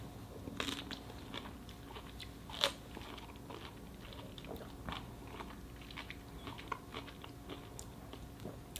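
Fruit from an Edible Arrangement, including pineapple, is chewed close to the mic: soft, wet crunches and bites repeat irregularly throughout, quiet overall, with one sharper crunch standing out and no talking.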